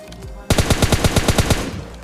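Automatic gunfire from PUBG Mobile Lite, a rapid loud burst of about a dozen evenly spaced shots starting abruptly and running for over a second, with game ambience before it.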